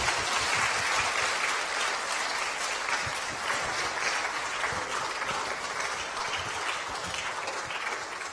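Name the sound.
audience applause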